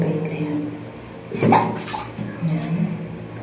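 Water splashes and trickles as it is poured, in a close, brief burst in the middle with lighter pouring sounds before and after, while a person speaks nearby.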